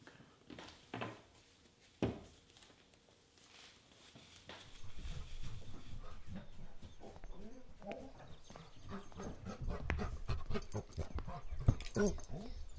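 A dog pants and whimpers in a staged audio drama: a few soft knocks and thuds, then continuous breathy panting with faint whines building over several seconds.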